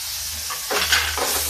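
Tomatoes drop into hot dal, and the steady sizzle surges into a brief loud hiss partway through, then settles.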